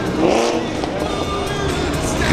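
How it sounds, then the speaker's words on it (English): An old-school sport compact car rolls out of the SEMA show amid a steady, busy wash of engine noise and crowd bustle, with people talking over it. "a little old school sport compact coming our way"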